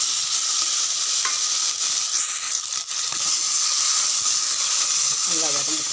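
Tomatoes and green chillies sauté in a pan with a steady sizzle and occasional stirring scrapes, the frying hiss continuous and fairly loud throughout.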